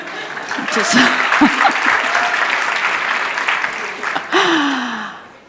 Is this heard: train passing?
no